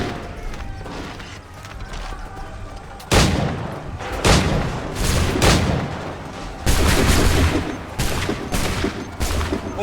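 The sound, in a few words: gunfire in Assassin's Creed 3 video game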